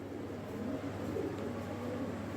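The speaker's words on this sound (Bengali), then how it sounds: "অনেক সুন্দর কবুতর" Fancy pigeons offered for sale coo softly in low, rolling murmurs, fairly faint beneath a steady hiss of room noise.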